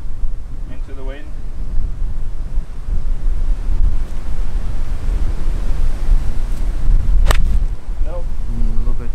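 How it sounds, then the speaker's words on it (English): Strong wind gusting across a golf course roars and buffets the microphone in a loud, continuous rumble, with brief bits of voices heard faintly under it. "there's a ripping wind"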